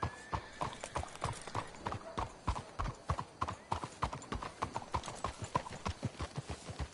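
Horse hooves clip-clop in a steady, brisk rhythm in Red Dead Redemption 2, the beats loud and close as several horses ride along, with a faint whinny in the mix.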